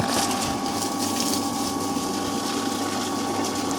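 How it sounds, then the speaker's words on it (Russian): A swimming pool sand filter pump running with water flowing through it, a steady loud hum with a constant whooshing rush throughout, close by and without talk. "И опять включаем насос на 1 минуту."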